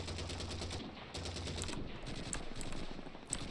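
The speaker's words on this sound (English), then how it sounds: "that's how you lay suppressing fire" Machine gun suppressing fire in Call of Duty 2 on the Hill 400 approach: loud, sustained automatic bursts that rattle on without pause, with sharp cracks near the end and no talking.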